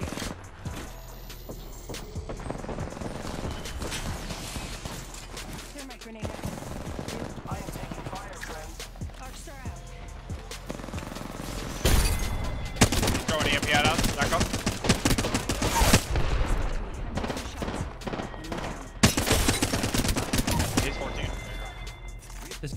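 Bursts of Flatline assault rifle fire in a video game, loud rapid automatic volleys with brief pauses between strings, mixed with game effects and players talking over it.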